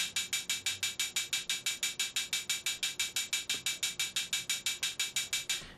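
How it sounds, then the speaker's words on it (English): Synthesized metallic hi-hat made in the Massive soft synth for an electro drum loop, ticking in a fast, steady stream of evenly spaced bright hits with short decays, about five per second, alone and fairly quiet. "I think the metallic is a pretty good hi-hat sound as well"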